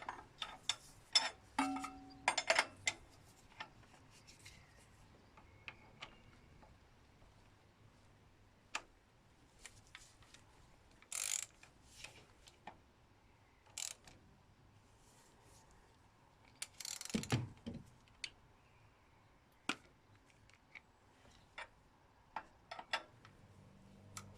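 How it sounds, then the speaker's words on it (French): A ratchet tightens the camshaft phaser screws on a 1.6 VTi engine during timing kit reassembly, making scattered short bursts of quick clicks separated by quiet pauses in a calm workshop. "Là ensuite je serre les vis des déphaseurs."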